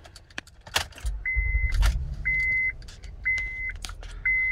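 A Honda Pilot engine starting: keys jangle, then the starter cranks and the engine catches with a low rumble, while repeated short electronic chime beeps sound at regular intervals, all close and clear.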